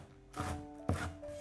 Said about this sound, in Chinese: 准备1把小葱切成葱花